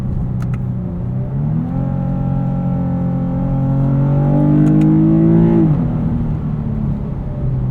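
A 2026 Lexus IS 350 F Sport AWD's V6 in sport mode, a loud cabin engine note rising in pitch, then quick blipped rev-matched downshifts near the end before settling to a lower hum.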